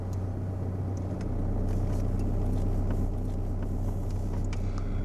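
A car pulling away after the handbrake is released, with a steady low engine drone that builds slightly and holds close and even throughout.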